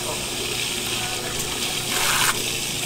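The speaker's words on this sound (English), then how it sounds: "I want to put a lot of water through it" A large volume of water gushes steadily into a drain as it is flushed through, making a loud, continuous rushing sound that swells slightly near the end.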